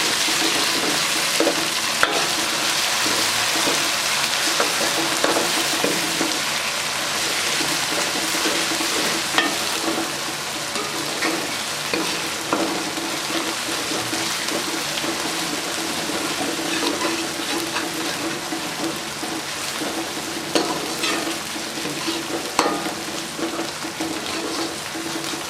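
Green chillies fry in a pan with a continuous, hissing sizzle and scattered crackles over a long stretch, close and steady, with no speech.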